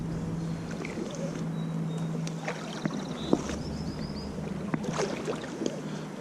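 A float tube is paddled on a river, with soft intermittent water splashes and light dripping over steady outdoor ambience and faint wind.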